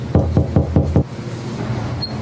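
Five firm knocks on a door come in quick even succession, loud and close, followed by a muffled, noisy room tone.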